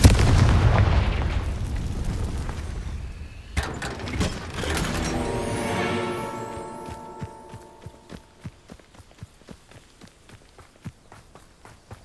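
A Confringo blasting spell in Hogwarts Legacy erupts in a loud, sustained roar that fades into a rapid train of sharp crackling pops and thuds, with no voices.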